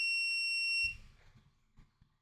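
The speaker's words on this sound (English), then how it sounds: "I think you could turn off that beeping." An AnkerMake M5C 3D printer emits a loud, steady high-pitched electronic beep as the nozzle heats, holding for under a second before cutting off, followed by faint handling knocks.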